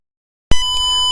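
The active buzzer of a smart doorbell with a sensor and LCD starts abruptly after a moment of silence. It holds a loud, steady electronic tone with no talking.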